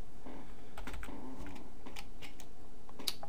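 Fingers tap steadily on a computer keyboard nearby, the keystrokes quick and irregular against a faint constant background hum, with nobody speaking.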